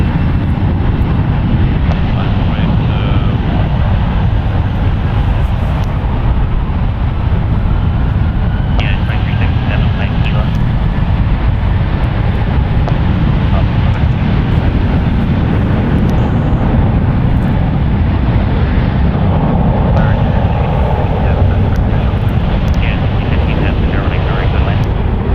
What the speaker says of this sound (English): we have a departure. United Express up with SkyWest Airlines Flight 6939 going to Denver, Colorado